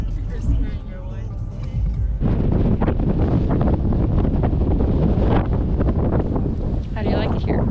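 Gusty wind buffets the microphone beside a waterfall at night, a loud, steady roar of rushing air and water that swells after the first couple of seconds, with brief voices faintly audible beneath it.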